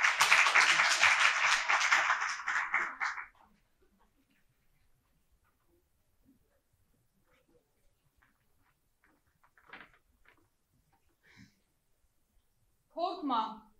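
An audience at a school Turkish national anthem recitation contest in Bursa applauds to welcome a vocational high school student to the stage; a dense burst of clapping lasts about three seconds, then quiet with faint stirring and brief voices.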